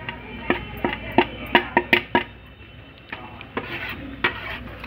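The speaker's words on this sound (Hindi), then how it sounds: "इसे भी अच्छे से मिला लेना है" A spoon stirs and scrapes through potato and cauliflower curry with freshly added turmeric, red chili and coriander powders, giving a quick series of sharp metallic clinks and scrapes against the pan, close and alone.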